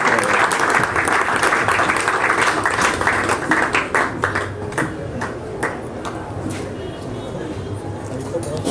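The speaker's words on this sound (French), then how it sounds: "sous vos applaudissements s'il vous plaît" An audience at a book reading event claps continuously in a sustained round of applause, with a voice speaking over it and a metallic ringing note early on.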